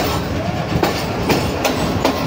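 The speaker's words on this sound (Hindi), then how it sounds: "इस वक्त ट्रेन हमारी मेन लाइन ML1 पर ट्रैवल करेगी" The Allama Iqbal Express passenger train runs along the ML1 main line in Pakistan, a loud, close rolling roar with rhythmic clickety-clack wheel beats over rail joints.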